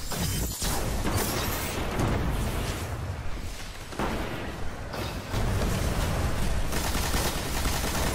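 Dense, continuous automatic gunfire and explosions from the video game Destiny, loud and close, sustained rapid bursts with mechanical clatter filling the whole stretch.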